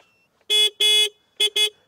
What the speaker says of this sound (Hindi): इसकी पिच सुनाता हूं, कैसा हॉर्न है, मुझे ठीक लगा इसका हॉर्न